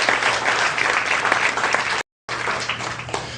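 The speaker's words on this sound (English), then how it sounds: "Give him a nice round of applause," An audience gives a sustained round of applause, dense and loud throughout, with a brief cut of silence partway through before the clapping resumes.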